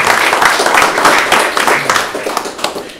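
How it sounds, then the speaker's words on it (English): Applause at a health committee meeting fills the room: a dense, steady patter of many hands clapping close and loud for about three seconds without pause. "So I'd ask that we give him a round of applause too."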